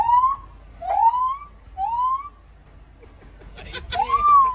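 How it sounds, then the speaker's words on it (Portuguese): A police siren chirps in short rising whoops, four quick bursts spaced roughly a second apart, fairly close and clear, with a jumble of other noise creeping in near the end. "Vai, liga a sirene aí."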